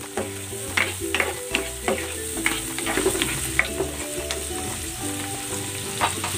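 Sliced mushrooms sizzle steadily in a frying pan as they are stirred, with repeated sharp scrapes and clicks of a utensil over a continuous close, crackling fry.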